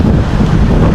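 Strong wind at a seaside boulevard in Dipolog buffets the microphone in a loud, steady roar with constant low rumble and no pauses, drowning out everything else.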